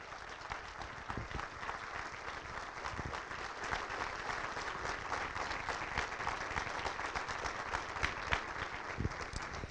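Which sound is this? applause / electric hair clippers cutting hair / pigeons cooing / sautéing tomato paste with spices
applause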